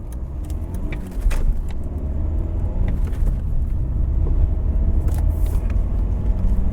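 A BMW 320d E46 diesel engine driving on the road, a steady close low rumble and drone from inside the cabin, with a few light clicks and rattles over the top and no talking.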